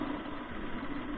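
A motorcycle engine runs at a steady idle-like drone near a beach camp, continuous and even with no speech over it.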